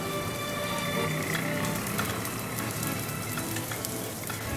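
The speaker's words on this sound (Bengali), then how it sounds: "চালগুলো একটু ট্রান্সপারেন্ট হয়ে গেলে এর মধ্যে দিয়ে দেব এক চিমটে নুন দিয়ে ভালো করে ভেজে নেব" Gobindobhog rice with a pinch of salt fries in a pan, giving off a steady, even sizzle with a faint crackle that holds at one level throughout, with no voices.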